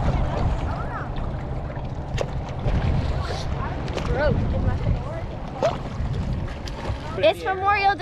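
A motorboat cruises over open water on a chilly Memorial Day outing, its engine rumble mixed with rushing wind and spray, loud and continuous from start to finish.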